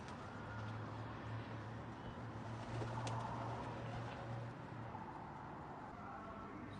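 A pigeon cooing, low soft repeated coos heard close over a steady outdoor background wash with faint traffic noise.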